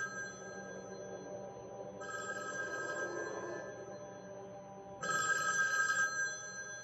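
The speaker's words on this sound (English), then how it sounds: "The phone's ringing." An old-fashioned telephone in a dark room rings in two bright, buzzing bursts of about a second each, separated by a pause, over a low ambient hum.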